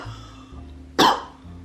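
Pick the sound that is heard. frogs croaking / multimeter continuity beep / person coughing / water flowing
person coughing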